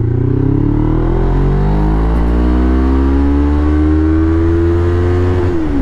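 A Honda CB500 motorcycle engine accelerates hard through a gear, a loud, close, rising drone that climbs steadily in pitch before easing at the end.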